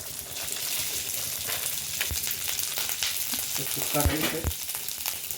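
Cumin seeds sizzling in a pan with cooked rice tipped in for jeera rice, a steady close frying hiss throughout with a few soft clinks and stirring scrapes near the end.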